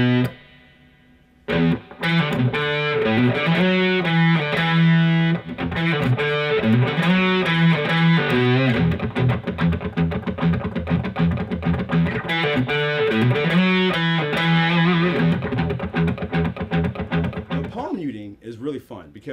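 Distorted electric guitar power-chord riff in a rock style, played with a delay effect, with chunky chords and repeating figures that ring out loud and continuous, briefly pausing early before the riff resumes and fades at the end.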